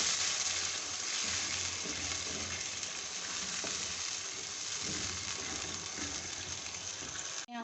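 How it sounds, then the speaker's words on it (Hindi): Steady loud sizzling and bubbling from a pan where milk and sugar cook down for sweet zarda rice, continuous and close, with faint stirring under it. "यहाँ पर मैं अभी इसमें 1 गिलास दूध डाल रही हूँ। चीनी को इसी में हम गला लेंगे।"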